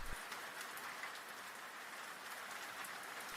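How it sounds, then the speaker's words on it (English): Gentle rain patters steadily against a window, a soft, continuous hiss of drops at an even, moderate level with no voices. "the gentle rhythm of rain against the window"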